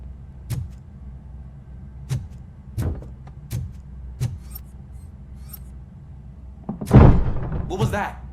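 Several sharp metallic thuds and a heavier slam near the end, a door being forced and banging in the RoboCop: Rogue City video game, loud and close against a quiet background.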